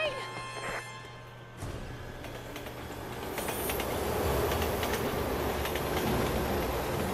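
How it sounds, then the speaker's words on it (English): A train rushes past in the Resident Evil 6 video game, a loud sustained rumble and rattle that swells and holds steady after a brief low hum, with a voice heard near the start. "Train!"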